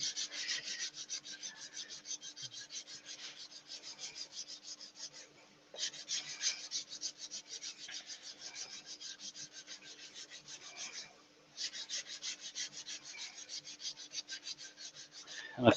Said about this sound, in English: So what are you going to sand it down to? About 400?